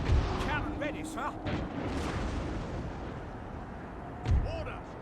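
Cannon artillery fire in Napoleon: Total War, Great Britain coalition campaign: deep booms at the start and near the end over a bed of battlefield noise, with shouted voices heard between them.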